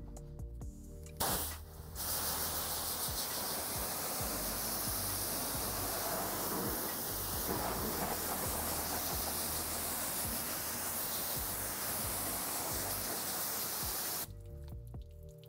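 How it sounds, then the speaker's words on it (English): Water sprays steadily from a hose onto a surface coated with drying aid, a loud continuous hiss lasting most of the stretch, with brief pauses at the start and a cut-off near the end. "So now all we got to do is spray it off and see what kind of results we get."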